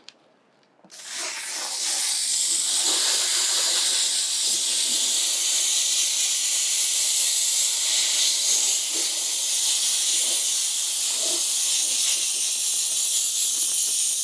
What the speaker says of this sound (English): And then we'll go back, hit it one more time with steam.